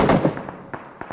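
Gunfire in the mobile battle-royale game PUBG Mobile: a loud burst of shots at the start, then several sharper single reports that fade into lighter repeated pops.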